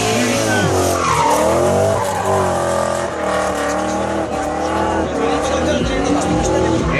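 A BMW M5 drifting at a drift event, its tires squealing continuously under a loud, revving engine, with the skid wavering in pitch throughout and crowd voices faintly mixed in.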